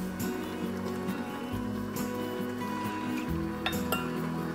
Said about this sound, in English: I'm gonna mix in our 1/2 cup of stevia and our 2 teaspoons of Pomona's pectin powder